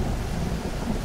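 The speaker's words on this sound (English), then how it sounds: "let's watch this fury of the storm unfold" Thunder from a storm in the survival game Stranded Deep, a brief, continuous low rumble with wind-like noise and no speech.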